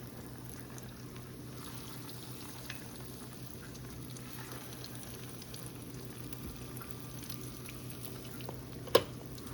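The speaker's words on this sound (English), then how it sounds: "Potato patty. It should be, the oil should be hot." A potato patty fries in hot oil, giving a steady soft sizzle and faint bubbling throughout, with one brief sharp clink near the end.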